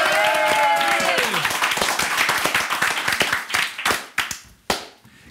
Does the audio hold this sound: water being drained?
no